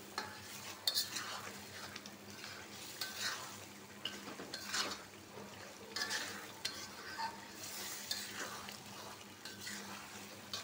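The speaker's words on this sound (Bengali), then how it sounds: "পাঁচ মিনিট আলুটা কষায় নিই," Potatoes sautéed in spice masala in a pot for chicken curry, quiet continuous sizzling with repeated scraping stirs of a spoon against the pan.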